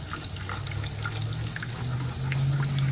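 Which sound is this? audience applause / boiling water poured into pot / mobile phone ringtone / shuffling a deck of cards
boiling water poured into pot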